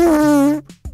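A comic fart sound effect plays for a kids' science podcast: one loud, buzzy, drawn-out blast lasting about half a second, sliding slightly in pitch, followed by a couple of faint sputtering tails.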